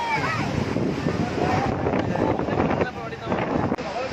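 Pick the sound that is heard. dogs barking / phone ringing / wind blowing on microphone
wind blowing on microphone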